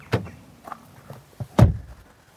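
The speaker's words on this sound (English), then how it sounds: "Once the quality door thunks shut" The door of a 2023 BMW iX1 electric SUV closes with a solid, dull thunk at close range, preceded by lighter clicks and handling knocks, with no voices.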